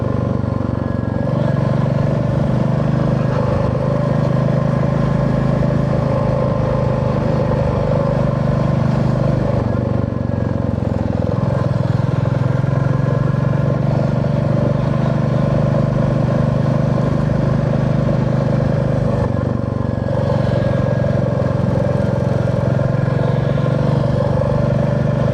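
Steady rumble of a motorcycle engine while riding, loud and continuous with slight shifts in pitch, wind and road noise mixed in.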